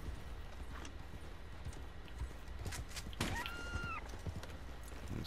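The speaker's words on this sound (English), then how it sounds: "Calm down, horsey." A horse in Red Dead Online shifts its hooves with a few scattered clops, then lets out a short, clear whinny partway through, set against quiet outdoor ambience with little talk.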